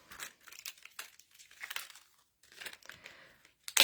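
Scissors snipping through paper card pieces for a handmade winter friends card, crisp crinkly cuts arriving in short irregular bursts with pauses between, close and fairly quiet, without talk.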